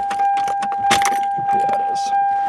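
Keys jangle and clink up close while the steering wheel lock on a 1991 Toyota Cressida is worked, several bright rattles over a couple of seconds with a voice speaking alongside.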